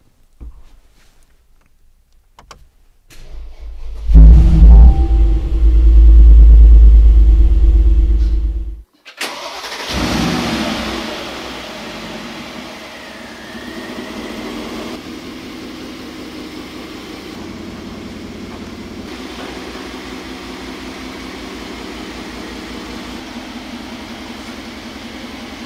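A 2021 Mercedes G500 G-Class with Hofele styling starts up with a loud, deep roar that swells for several seconds, then cuts abruptly to a quieter, steady running hum.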